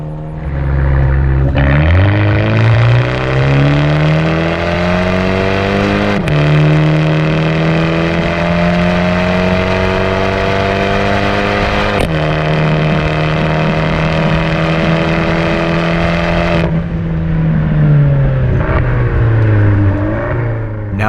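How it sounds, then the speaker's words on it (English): An Abarth 124 Spider pulls hard from 40 to 100, its engine note loud and close as it climbs steadily through the revs, dropping briefly at each of two gear changes before rising again, then easing off near the end. "We'll do a quick acceleration pull now for the 40 to 100 time."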